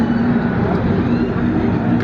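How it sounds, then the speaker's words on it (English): NASCAR race car engines idle and rumble at Texas Motor Speedway before the pace laps, a loud, steady, close-up drone holding an even pitch with no break. "Engines fired, getting ready to start the pace laps."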